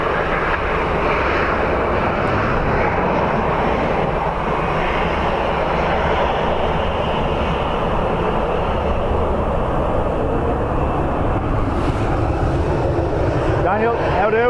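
Airplane arriving on runway 2 left at Dublin Airport on a windy day, a loud continuous jet engine roar that holds steady throughout, with wind buffeting and faint distant radio chatter.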